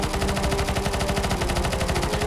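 Sustained rapid automatic gunfire from a map in the game Counter-Strike, a dense, loud unbroken burst of shots with no talk over it.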